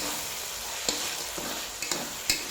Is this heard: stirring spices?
yes